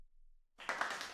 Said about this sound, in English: Should get a little applause.